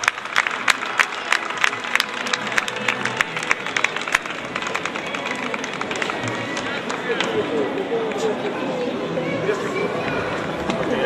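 A crowd lining a historical groups parade in Tolentino applauds steadily, with scattered claps and chatter over a busy outdoor background while a voice speaks over it.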